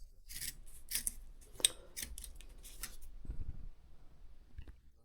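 Scissors snip repeatedly at the corner tip of a stretched canvas, short crisp metallic cuts in an irregular rhythm, close and alone, with a few soft rubbing handling sounds between them.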